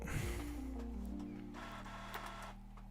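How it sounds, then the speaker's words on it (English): A home printer running a document close by makes a loud mechanical whir with gliding motor tones and clicks of paper feeding, steady throughout. "the printer's just right here. You can probably hear that real loud."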